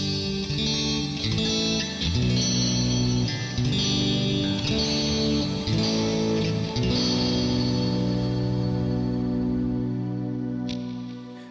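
An electric guitar through an Archetype Gojira plugin on a single coil setting plays chords and picked notes with a slightly gritty, lightly distorted tone, steady and fairly loud with no voices.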